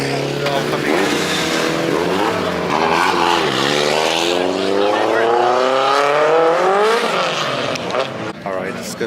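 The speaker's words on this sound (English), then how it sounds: "check out the cars on the track right now. They're all coming in." Drift cars at the Final Bout 2025 event roar past close by, coming in on the track, engines droning and rising in pitch as they accelerate, with voices mixed in under the noise.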